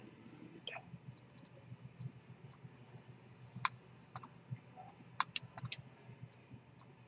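Faint, sparse computer mouse clicks while working in Inventor design software, single sharp ticks spaced irregularly over a low background hum.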